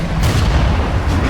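Cannon fire booms through the Paris streets in Assassin's Creed Unity as Napoleon's guns open up on royalist forces. The blasts are heavy, rumbling and continuous, with sharper reports rising out of a dense, loud roar and no voices.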